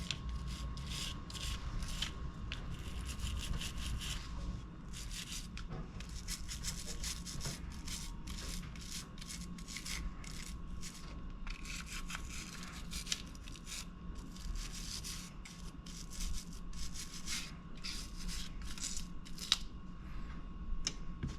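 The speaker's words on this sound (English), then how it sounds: "just take some of the cleaning solution, put it on there, and just scrub around" A part is scrubbed with cleaning solution, giving repeated short bursts of brushing and rubbing that come close and fairly quiet over a low steady background hum.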